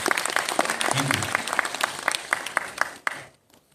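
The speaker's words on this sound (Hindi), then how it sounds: "एक बार जोरदार तालियां मनीषा मैम के लिए।" An audience at a nutrition talk applauds loudly with dense, rapid clapping that holds steady for about three seconds, then quickly dies away to silence.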